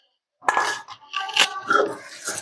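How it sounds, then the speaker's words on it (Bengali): Raw garlic and drumstick flowers are ground on a stone slab (shil) for a Bengali fish curry paste, giving irregular close scraping and grinding strokes with small clinks after a moment of silence. "এভাবে আমি শিলে বেটে নেব।"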